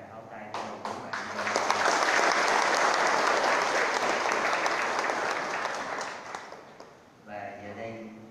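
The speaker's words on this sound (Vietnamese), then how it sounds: "xin mọi người và cộng đồng chúng ta cùng tràng pháo tay cho ông bổn mạng" A church crowd bursts into sustained applause that swells, holds for several seconds, then fades as a voice speaks over the tail.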